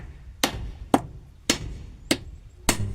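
Five sharp hammer strikes driving nails, evenly spaced about half a second apart, loud and close with a low background rumble and no talking.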